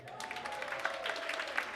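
An audience claps in a brief, moderate round of applause, steady and fairly close, with a voice speaking over it at the start.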